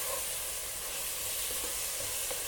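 Masala for chicken dum biryani sautés in a pan with a steady, close sizzle and faint stirring, a continuous even hiss throughout.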